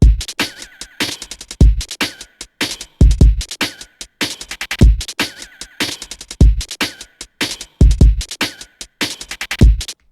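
Jungle drum sample loop in Ableton, heard unwarped before being shifted onto the beat: loud, dense breakbeat hits with punchy kicks, sharp snares and rapid hats repeating in a fast, driving pattern.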